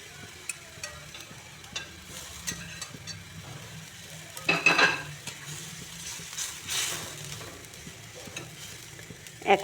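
Shing catfish goes into a pan of hot water with raw banana and potato and cooks, giving a close, low steady sizzle and bubbling with scattered clinks and stirring knocks, louder bursts midway and at the end.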